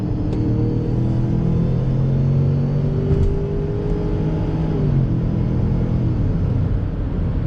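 A Ford Bronco Sport Badlands accelerates in sport mode while its automatic transmission upshifts, giving a loud, steady interior engine drone whose pitch climbs and then drops at each gear change, with no speech.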